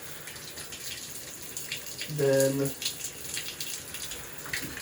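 Water runs from a tap during a watercolor painting session, a steady splashing flow under a man's speech, with a short tonal squeak from the faucet partway through.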